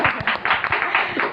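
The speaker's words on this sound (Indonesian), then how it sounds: "Boleh tepuk tangan dong." A small audience at a talk-show style public speaking session claps in a brief burst of rhythmic applause, close by and without talking.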